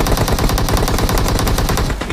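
Rapid automatic gunfire rattles in the video game PUBG Mobile, a loud, continuous burst of closely spaced shots lasting the whole stretch with no pauses.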